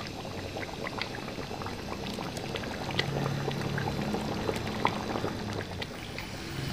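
Chopped onions hitting a large hot pot of oil for a big batch of chicken korma, a continuous crackling, bubbling sizzle at moderate level with scattered pops, no voices.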